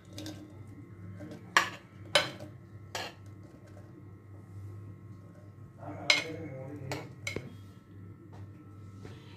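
Chopped cucumber tipped into a small clay pot while making Kerala-style Onam pachadi: a few sharp clinks and knocks of utensil on pot, spread apart, over a steady low kitchen hum.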